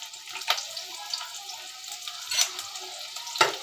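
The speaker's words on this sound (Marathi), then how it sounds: "मच्छी टाकलंय, चांगलं तापलं आणि लसूण घालते." Fish and garlic frying in hot oil in a Malvani home kitchen, a steady close sizzle with sharper spitting crackles bursting out several times, no talking.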